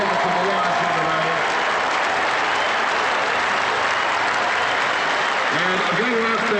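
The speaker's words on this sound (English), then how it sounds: "A round of applause for the efforts of the Lions in the round." A large crowd at the 2004 AFL Grand Final between Port Adelaide and Brisbane applauds the Brisbane Lions with sustained, loud clapping, while a voice speaks over the ovation at the start and again near the end.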